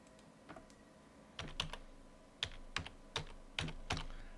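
Fairly quiet, close keystrokes on a computer keyboard while entering text during GitHub SSH key setup, in short irregular bursts of a few sharp clicks with brief pauses between them and no talk.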